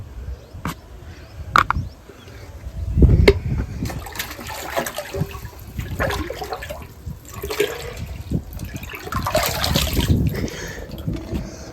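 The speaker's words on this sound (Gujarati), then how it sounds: "આપણે પાણીનો જગ કમ્પ્લીટ ભરી નાખ્યો, તમે જોઈ લ્યો।" Water from a tap rushes and splashes steadily into a jug being filled, a loud continuous pour with surges in flow and no speech.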